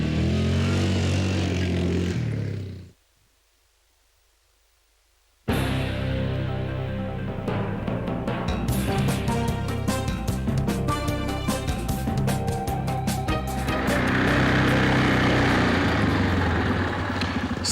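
An ATV engine revs while the vehicle is being ridden: a steady motor drone cuts out for a few seconds, then returns loud and sustained with rising throttle surges and no talking.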